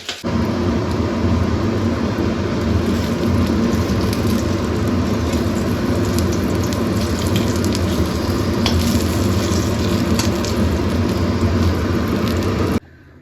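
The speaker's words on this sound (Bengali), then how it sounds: "এই যে রান্না হচ্ছে আলুর তরকারি।" Potato curry frying in a pan, a steady loud sizzle running continuously with occasional stirring scrapes, close by and without talk until it cuts off near the end.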